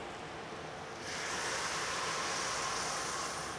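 Salted pasta water is poured into sauce, a steady close hiss of liquid that grows fuller and brighter about a second in and keeps running smoothly to the end, with no talking.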